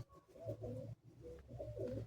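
Madrasi high-flying pigeons, white-headed birds among them, coo nearby in two low, rolling bursts separated by a short pause, with no voices.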